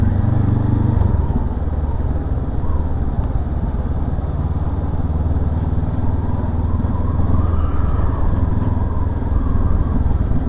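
Honda CL500 Euro5 2023 motorcycle engine on a road test ride, a steady loud rumbling drone with wind roar close up, rising and falling slightly in pitch throughout, no talking.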